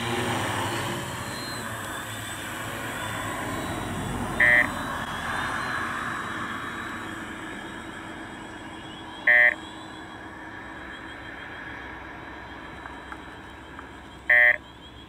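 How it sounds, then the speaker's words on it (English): Three short electronic LiDAR health warning beeps from a drone's telemetry sound at regular intervals, about five seconds apart, over a steady engine-like drone. "Now you will hear the beeping of my LiDAR health."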